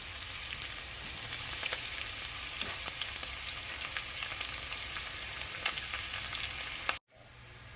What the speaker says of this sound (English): Now I'm adding the sliced onion, 1 onion. I will fry this until golden brown.